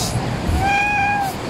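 A cat begging for food at a resort restaurant in Cuba gives one clear, loud meow that rises and then fades, close by, over steady background noise.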